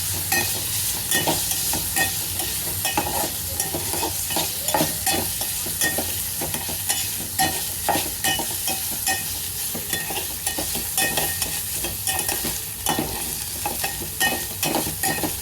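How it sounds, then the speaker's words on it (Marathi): Dried shrimp (sode) fry in oil in a pan, giving a constant loud sizzle with a regular pattern of scraping stirs throughout and no voices. "इथे आपण आता एक पळी तेल घेणार आहोत, ज्यामध्ये आपण सोडे हे चांगले तळून घेणार आहोत."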